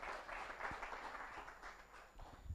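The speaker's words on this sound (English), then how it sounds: "A round of applause for Joris." Brief, soft clapping from a seated audience at a HealthTech summit in Rwanda, greeting a panel moderator, heard as a thin, distant patter with no standout claps.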